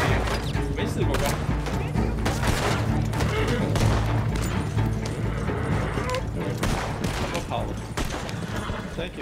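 Repeated gunshots and volleys ring out in the open-world western game Red Dead Redemption 2, loud and dense with booming thumps, as a voice talks over the firing.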